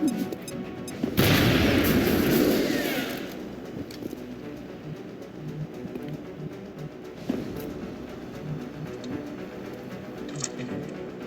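A grenade goes off with a loud blast amid scattered gunfire in a military video game, the explosion booming early and then fading into distant shots and ambient battle noise.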